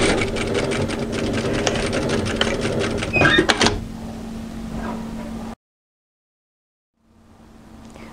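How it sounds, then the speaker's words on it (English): A sewing machine stitches the side seams of a cross-back apron, a fast, steady, close mechanical whir that stops abruptly, followed by a brief silence and then soft room noise. "So let's sew these side seams in"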